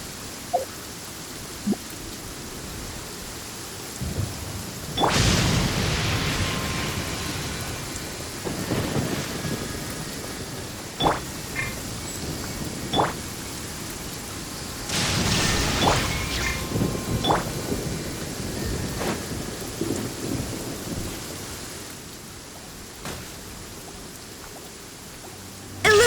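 Thunder in the video game Genshin Impact booms in two big, loud crashes over a steady wash of rain, with a few sharper cracks in between.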